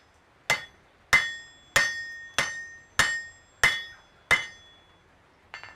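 A blacksmith's hammer strikes an anvil seven times in a steady rhythm. Each close, loud blow rings on with a bright metallic tone, and a lighter tap follows at the end.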